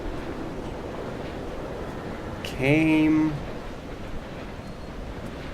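Strong, gusty wind on a desolate island in the video game Dear Esther, a steady broad rushing roar throughout, with a brief spoken word partway through.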